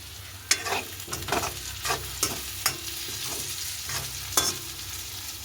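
Curry leaves and other ingredients sautéing in a pan, with scraping stir strokes recurring every second or so over a steady low sizzle, close and moderately loud, no voices.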